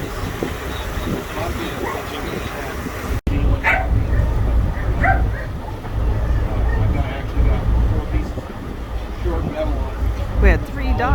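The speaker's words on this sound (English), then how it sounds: "We had 3 dogs on board today." Dogs bark and yip aboard a tour boat on Lake Chelan, Washington, several short sharp barks scattered over engine rumble and chatter, with people talking nearby throughout.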